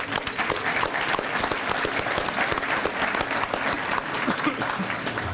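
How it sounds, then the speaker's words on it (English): Audience applause at a law school alumni association's annual dinner, a thick wash of many hands clapping steadily at moderate distance throughout, without any talking over it. "Another round of applause, please."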